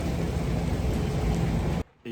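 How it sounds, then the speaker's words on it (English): Steady rain pours down in a dense hiss around someone sheltering beside a diesel vehicle, continuing without pause before cutting off abruptly near the end. "I'm sheltering from the rain because I don't want to get wet near it."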